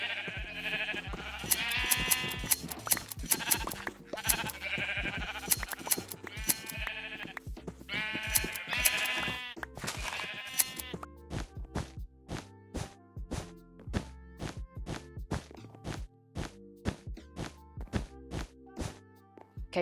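Sheep in a modded Minecraft survival world bleat in repeated close, loud calls, followed by a long series of short, sharp rhythmic clicks or thwacks.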